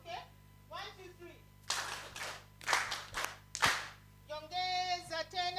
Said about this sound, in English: I want us to clap deliberately